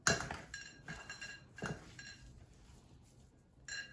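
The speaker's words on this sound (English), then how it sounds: "Now I'm going to start mashing this in as well." Seasoning being mashed into a Guyanese fish cake mixture in a bowl, heard as faint, intermittent clinks and scrapes of a utensil against the bowl, with quiet pauses between strokes.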